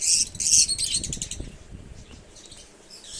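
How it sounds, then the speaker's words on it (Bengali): Lovebirds, Fischer's and rosy-faced, along with other pet birds in an aviary, chirping in quick bright bursts, busiest at the start and then thinning to scattered tweets. "এছাড়া এখানে কিছু লাভবার রয়েছে, কিছু ফিশার গ্রুপ রয়েছে এবং কিছু রোজি গ্রুপও রয়েছে"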